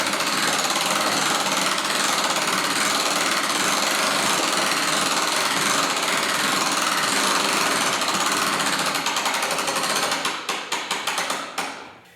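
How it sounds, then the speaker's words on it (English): A hand crank turns a pulley to lift a heavy root cellar hatch, giving a loud continuous rapid ratcheting clatter that runs steadily, then slows into separate clicks and stops. "Now we should just be able to crank the handle,"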